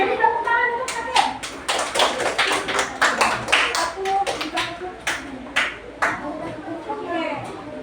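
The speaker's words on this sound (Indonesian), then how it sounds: "jadi tepuk tangan untuk Hakim." A Grade 3 class applauds a student with quick, sharp, uneven hand claps close by, mixed with children's voices and bits of talk throughout.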